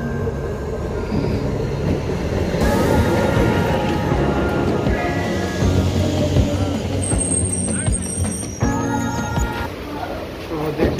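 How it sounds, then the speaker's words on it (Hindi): A DEMU express train stands at a station platform, its engine rumbling and carriages clanking steadily with brief air-brake hisses and squeals, loud and close throughout. "अभी देखिए ट्रेन आ चुका है और हम लोग अभी थोड़ी देर में बैठ जाएंगे।"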